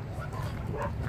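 Dogs at a rescue shelter for abandoned dogs, wary of a first-time visitor, give close yips and bow-wow barks with whimpering across a short stretch, mixed into steady low background noise and some voice.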